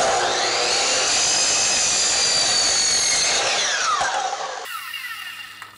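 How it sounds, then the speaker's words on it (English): A miter saw with a dull blade cuts through a laminate flooring sample, giving a loud, close, sustained high whine and grind that eases off and winds down near the end. "The blade in this miter saw is getting fairly dull, so it was more of a fight in that cut than you would have with a sharp blade"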